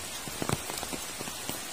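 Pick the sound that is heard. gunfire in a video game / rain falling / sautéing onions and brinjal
rain falling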